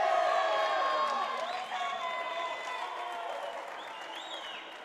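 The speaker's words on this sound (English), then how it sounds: "The crowd cheering her on" Crowd at a junior girls' U12 racquetball world championship match cheering and applauding, a loud burst of whoops and clapping that gradually tapers off.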